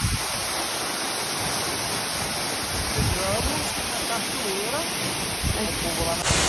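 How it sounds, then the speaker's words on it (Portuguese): A steady, full rushing roar of the waterfall at Recanto das Cachoeiras in Brotas, Brazil, fills the whole clip, with faint voices drifting underneath. "Muito bonita a cachoeira!"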